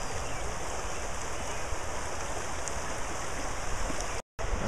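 Water in a creek rushes steadily beneath an old bridge with a middle support, a constant broadband wash with no pauses apart from one brief dropout near the end.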